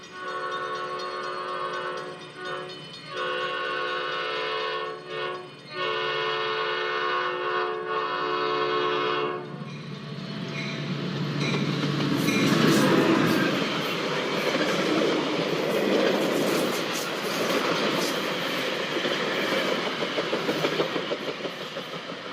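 A Metra commuter train on the Heritage Corridor line near Chicago: a sustained multi-tone horn sounds first, then the train rumbles loudly past with rolling wheel clatter that swells and continues, no speech.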